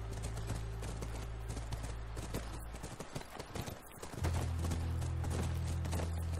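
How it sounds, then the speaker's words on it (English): Horse hooves from The Last of Us clip-clop in a steady rhythm over a heavy low wind-like rumble, fairly close, with no voices. "That's our horse."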